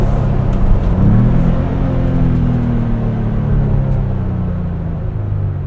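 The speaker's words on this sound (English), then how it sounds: "Let's do a little pull third here, and go down to second." Ford Bronco Big Bend Sasquatch with a 7-speed manual pulling in third gear, loud low engine drone climbing in pitch then easing off, heard from inside the cabin.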